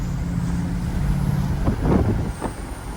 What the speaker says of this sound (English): going downhill, exhaust brakes on